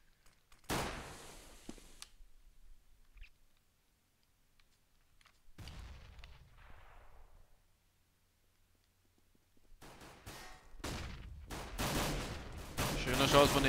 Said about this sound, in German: Schöner Schuss von XR